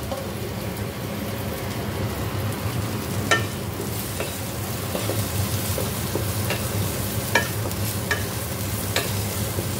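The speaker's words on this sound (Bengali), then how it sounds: "এখানে একটুখানি ভেন্ডি ফ্রাই করে নিচ্ছি" Okra (bhindi) fries steadily in oil in a pan, a continuous close sizzle with occasional scraping stirs and a few sharper crackles, and no voices.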